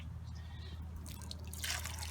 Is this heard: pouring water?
yes